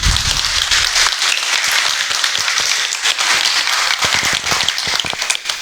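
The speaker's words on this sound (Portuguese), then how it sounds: "Recebemos ela com uma salva de palmas aqui entre nós." Members of a church congregation clap loudly to welcome a woman named Beatriz, a close, steady burst of many hands with some sharp individual claps standing out.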